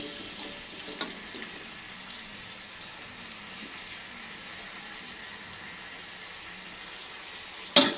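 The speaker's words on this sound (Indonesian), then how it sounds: "Sekarang kita tumis sawinya." Mustard greens stir-fry in a pan in a village kitchen, giving a steady, soft sizzle under low background hiss, with a faint knock early on and a sharp utensil scrape near the end.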